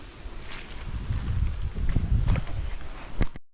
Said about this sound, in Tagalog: Ulan na may hangin po.